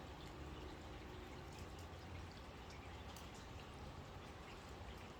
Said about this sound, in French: C'est la pluie, j'entends arriver.